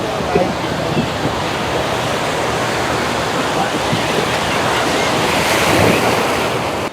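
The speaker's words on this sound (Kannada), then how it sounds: "ನೋಡು. ಅಲೆ ಅಲೆ ಅಲೆ ಅಲೆ ಬರ್ತೈತೆ." Ocean waves break steadily on Malpe beach, a loud continuous wash of surf with wind buffeting the microphone, the roar swelling slightly near the end.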